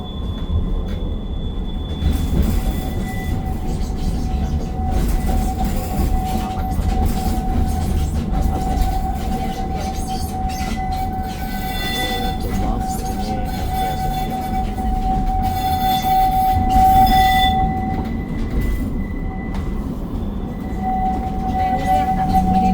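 A train rumbles steadily along the tracks in Istanbul, with a high squealing tone from the wheels and rattling clatter throughout, fairly close.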